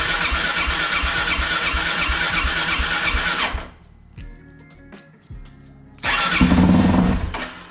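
An old vehicle's carbureted engine with the choke pulled out cranks and fires loudly, dies into a few seconds of quiet clicks, then catches again with a strong roar.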